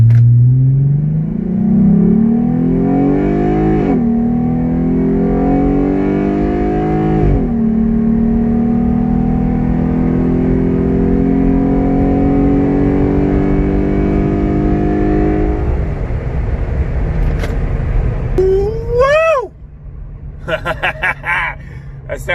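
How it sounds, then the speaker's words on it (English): A Jeep Gladiator Overland fitted with a cold air intake pulls away from a dead stop, its engine note rising loud and close through repeated gear changes, with a voice briefly over the end. "I'm gonna pull out here and come to a dead stop and then take off."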